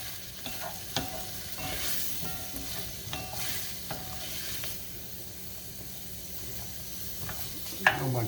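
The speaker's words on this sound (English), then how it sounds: "Keep stirring that around." A spoon stirs broccoli cheddar vegetable soup with potatoes and carrots in a pot, making scraping, sloshing strokes and occasional knocks over a soft, steady simmering sizzle, close and moderately loud.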